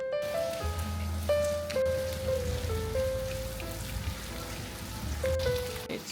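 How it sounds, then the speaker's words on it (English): Steady patter of rain on hard surfaces, with a sustained melodic tone running underneath. "It's raining a lot."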